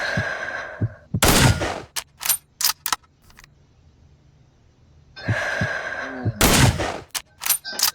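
Two sniper rifles, an M24 and an M14, fired at an outdoor range: two loud, sharp shot pairs roughly five seconds apart, each followed by short clatters and echoes.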